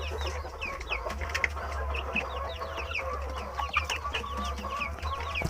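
Free-range village chickens cluck and chirp steadily in a loose flock while being fed, with overlapping calls and a low hum underneath throughout.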